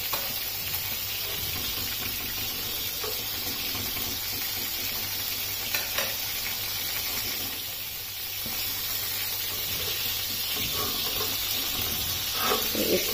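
Seekh kababs frying on a hot tawa give off a steady, close sizzle and hiss that runs unbroken, with occasional soft clinks and stirring sounds rising above it.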